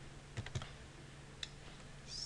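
Keyboard typing on a computer: a few quiet, scattered key clicks spread across a couple of seconds, with a soft electronic tone near the end and no talking.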